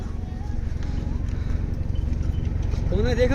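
Horses plod along a narrow mountain trail on the Amarnath Yatra route from Pahalgam, a steady run of close hoof clops under constant talk and background commotion.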